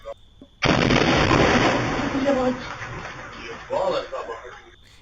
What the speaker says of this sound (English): it's the sound of an explosion